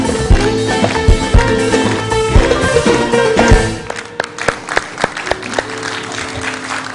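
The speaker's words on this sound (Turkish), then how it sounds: "Alkışlar." A Turkish TV studio audience applauds as a guest arrives on a talk show, with dense, loud clapping for about three and a half seconds before it thins into scattered, fading claps.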